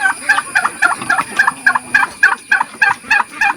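Ornamental chickens feeding, giving a steady series of about a dozen short, evenly spaced clucks and calls, close and fairly loud with no talk over them.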